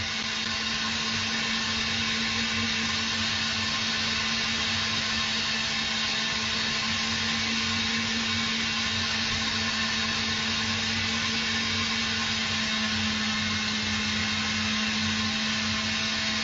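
A steady, loud mechanical whir of a stand mixer whipping meringue continuously at high speed, with a constant motor hum and no pauses.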